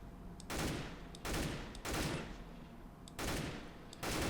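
M4 rifle fire in Counter-Strike: Global Offensive, several loud bursts separated by brief pauses, close and clear with no talking.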